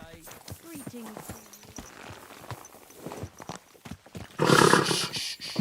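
Horse hooves clip-clop in a quick uneven rhythm beneath talking voices in Kingdom Come: Deliverance 2, ending in a louder burst of rushing noise.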